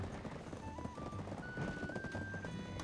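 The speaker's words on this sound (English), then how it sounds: "there's some horses. There's some running going on." Horses running in a race in the Black Desert game, with quiet overlapping clip-clop hoofbeats and a faint whinny amid busy background game sound, no speech.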